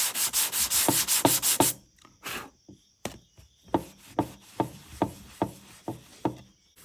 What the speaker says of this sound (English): Gonna hit it with a little bit more aggressive grit sandpaper. I think this is 120.